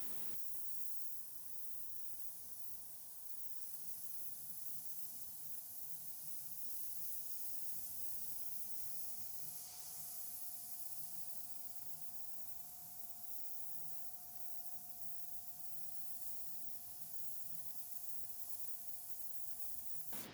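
A Border Model Black Flame 0.3 mm airbrush sprays undiluted paint at 1.2–1.3 bar, giving a faint, continuous airy hiss that holds steady for about twenty seconds with no talking.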